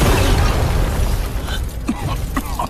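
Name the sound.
medicine furnace exploding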